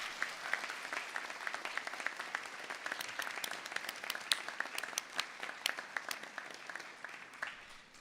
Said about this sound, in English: I would like you to give them your family, friends and supporters, a huge round of applause to say thank you to them